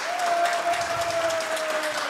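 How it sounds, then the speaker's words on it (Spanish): Steady audience applause fills the room for a guest named Gallo de Producer, a dense continuous wash of clapping with a sustained tone running beneath it and no voices. "Un aplauso para Gallo de Producer."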